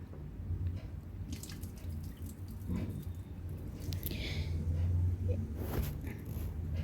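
Chunks of radish for kkakdugi kimchi are rinsed in water. Soft splashing and dripping sloshes come close but faint, with a few brighter splashes over a low background hum.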